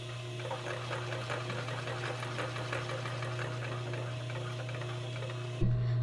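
A sewing machine stitches leather and fur mittens together, a steady fast mechanical whir with even rhythmic ticking at close range, cutting off abruptly near the end.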